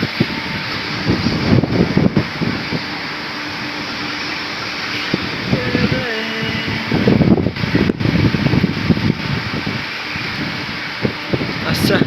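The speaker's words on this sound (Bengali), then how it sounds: "আরে বাতাস" Strong gusting wind buffets the microphone just before rain arrives, a steady loud roar with surges, and someone speaks over it at several points.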